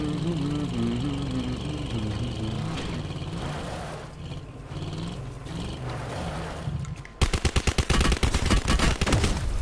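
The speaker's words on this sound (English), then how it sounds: "I heard a bit of shooting." Rapid bursts of gunfire in a battle royale shooter video game, a dense volley of sharp repeated shots crashing in near the end, loud and close, after a stretch of rumbling engine-like game noise and ambient sound.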